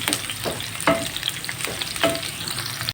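Two onions fry in hot ghee in a pan, a steady close sizzle broken by a few stirring scrapes, with no one speaking.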